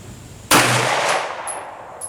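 A CZ SP-01 pistol fired at an outdoor range, heard as one sharp, loud crack followed by a long fading echo, close to the listener.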